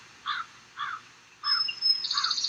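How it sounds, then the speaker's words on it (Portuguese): A bird calls at temple ruins, giving four short, bright, harsh notes in a regular rhythm, clear and fairly close over a quiet background. "tem até um sonzinho de passarinho."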